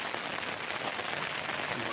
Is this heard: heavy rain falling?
yes